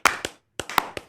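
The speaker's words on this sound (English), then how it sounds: "How about a round of applause for the Miami Heat?" A few sharp, separate hand claps sound close and dry, two quick claps, a brief pause, then three more, rather than sustained crowd applause.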